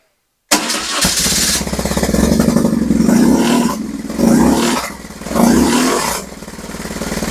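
A BMW 1150 GS motorcycle fires up after a short silence and settles into a close, steady running rumble, with several rises and dips in engine speed as the throttle is blipped.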